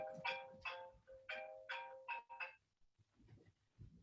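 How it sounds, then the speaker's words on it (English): Mobile phone ringing, a quiet repeating ringtone of six short bright tones in steady rhythm, followed by faint low room sounds, heard alone with no talk. "my phone is ringing, so I'm going to go turn that off."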